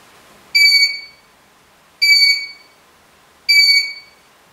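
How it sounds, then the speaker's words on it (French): An electronic device gives three evenly spaced, shrill beeps about one and a half seconds apart, with near silence between them, heard over a walkie-talkie in a supposedly haunted house. "Ça bip de l'autre côté."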